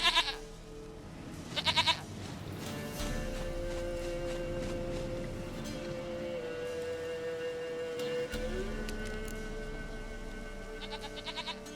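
A goat in The Witcher 3: Wild Hunt gives a couple of short, nasal bleats near the start over a steady game soundscape of sustained tones and background ambience.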